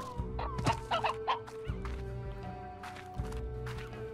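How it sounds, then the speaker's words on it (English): Briar hens, a kind of chicken in the video game Slime Rancher, cluck in quick bursts over a steady game music drone and soft footstep-like thumps, at moderate loudness with no talking. "Different kind of chicken."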